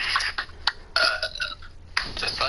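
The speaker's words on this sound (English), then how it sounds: "we want to thank somebody for that nice motivational belch" A long, loud belch with croaking, voiced bursts that rise and break up in several pulses, close to the microphone.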